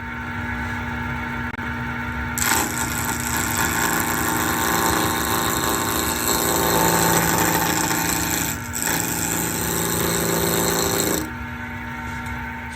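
Wood lathe spinning a wooden baby rattle blank made of dissimilar woods, with a steady motor hum under a louder stretch of tool cutting that starts, briefly dips and stops.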